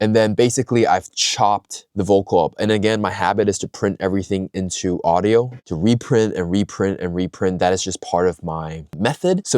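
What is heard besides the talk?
None of the usual background noises is heard.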